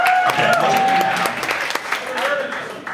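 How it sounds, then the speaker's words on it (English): An audience claps in a lecture hall at a talk on dystopian film, a dense burst of many hands that fades a little over three seconds, with voices and a pitched tone running underneath. "Applaud if you haven't seen this one."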